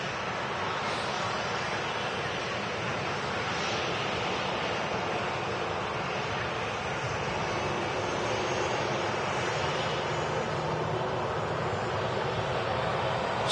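Aircraft moving at Manchester Airport, a steady broadband roar of engine noise mixed with wind rushing past the microphone, continuous and fairly loud throughout, with no talk.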